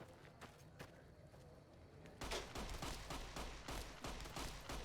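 Repeated gunfire in Fallout: New Vegas, with sparse shots at first and then a denser, louder burst of rapid firing from about two seconds in that continues to the end.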